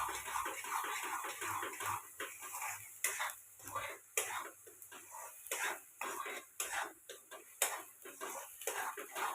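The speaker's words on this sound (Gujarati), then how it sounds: "હિંગ નાખી પછી આપણે હલાઈ દેવાનું છે થોડીક" Spinach cooked with asafoetida in oil is stirred in a pan, with uneven metallic scraping and clinking under steady sizzling hiss, close and fairly quiet, with intermittent speech over it.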